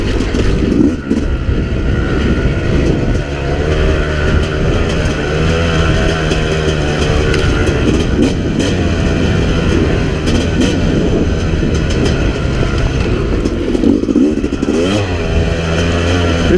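A 2017 Yamaha YZ250X dirt bike on a rocky forest trail, its engine loud and close, revving and falling with gear shifts for a corner, a continuous rasping drone with clattering and no speech.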